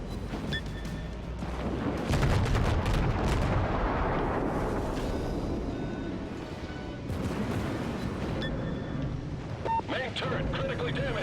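Naval gunfire booms in World of Warships, heavy rumbling blasts with long rolling tails and scattered sharp reports, all close and loud, over background battle noise.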